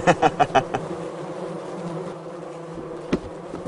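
Bumblebees at a working bee farm buzz close by, with a run of loud pulsing buzzes at the start that settles into a steady, lower drone, then one more brief buzz near the end.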